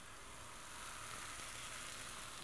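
Crepe batter sizzling steadily in a sprayed pan, a continuous close hiss of frying with no voices.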